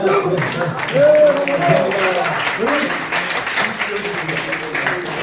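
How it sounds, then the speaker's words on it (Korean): A crowd applauds at a prayer meeting with a steady wash of clapping. Voices talk over it throughout. "박수"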